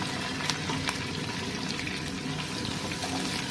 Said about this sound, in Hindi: इसमें शामिल करेंगे प्याज बड़े साइज़ का